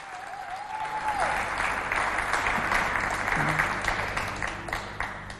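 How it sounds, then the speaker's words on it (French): An audience at an African fashion show in Chad claps for the tailors, a steady, full round of applause with a faint whistle-like tone early on. "Applaudissements pour les tailleurs."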